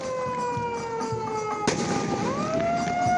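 Fireworks set off at Semarang Grand Mosque in Indonesia to mark the breaking of the Ramadan fast, a single sharp bang amid steady outdoor noise with sustained tonal music-like sounds and a rising whistle-like tone after.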